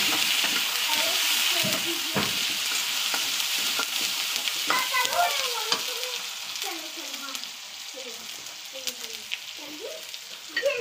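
Tomatoes frying with onions, turmeric and red chili powder in a pan for a potato dish, a steady close sizzle with scraping stir strokes running throughout, no talking.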